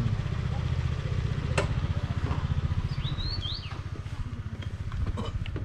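Motorcycle engine idling nearby on a mountain road at high altitude, a steady low rhythmic putter, with a bird chirping briefly in the background.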